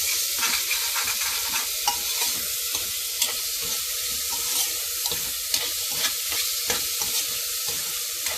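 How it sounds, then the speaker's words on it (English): Onions fry in a pan for dhansak while being stirred, a dense steady sizzle broken by repeated scraping strokes of the spoon, close and fairly loud, with no talking. "So nicely mix it together and cook the onions for at least 4 to 5 minutes"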